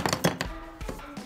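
Colored pencil packaging being opened: a quick cluster of close plastic taps and crinkly knocks, then a couple of softer thuds.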